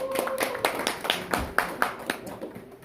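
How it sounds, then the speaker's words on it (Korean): Scattered applause from a small group at a land investment seminar, a handful of uneven claps close by, brief and light, with some background voices. "박수 한번 드리고 고맙겠습니다."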